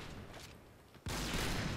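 Gunfire in the online shooter Point Blank, fired one bullet at a time, comes as a sudden faint burst of noise that holds on steadily, with no talking over it.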